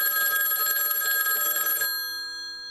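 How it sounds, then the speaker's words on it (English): A telephone rings in one continuous bright, buzzing bell tone that cuts off abruptly, leaving a faint ringing hum fading out. "3 o'clock in the morning, one morning, my phone rings."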